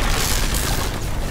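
Gunfire in Call of Duty WWII zombies mode: a loud, dense blast of booming shot noise that stays harsh and broadband throughout the brief moment, with no voices.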